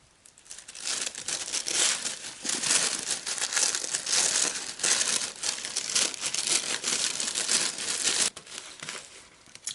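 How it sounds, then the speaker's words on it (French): Delicate sheets of tissue paper are peeled apart one by one, giving a continuous close, soft crinkling and rustling with brief crackles, steady throughout and dipping near the end. "il s'agit juste de séparer chaque feuillet les unes des autres assez délicatement parce que ça reste du papier de soie"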